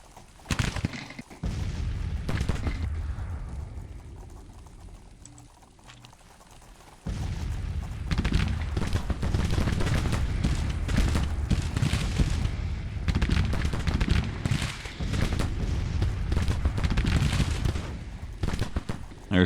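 24-pounder artillery cannons in a Civil War strategy game, firing repeatedly as sharp booms over a continuous rumble of battle gunfire, fairly faint and distant, with a quieter lull before the barrage intensifies.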